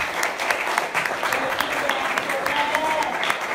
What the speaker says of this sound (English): Look at the soft, weak applause